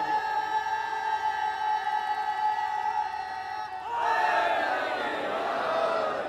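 Crowd at a majlis with Maulana Iqrar Raza Rampuri shouting a religious slogan together, a sudden loud collective shout that bursts in midway and carries to the end after a sustained tonal passage.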